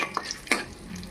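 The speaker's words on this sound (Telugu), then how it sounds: "మనం బాండీ తీసుకొని దాంట్లో కొంచెం నెయ్యి వేసుకొని జీడిపప్పు, కిస్మిస్ దోరగా వేయించుకుందాం." Cashews and raisins stirred and frying in ghee in a kadai for carrot halwa: a soft, steady sizzle with a couple of sharp stirring scrapes, close by and without speech.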